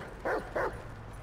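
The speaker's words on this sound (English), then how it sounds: "Put that dog on a leash." Two short dog barks in the GTA 5 video game, close and moderately loud, evenly spaced about a quarter second apart over a low steady background hum.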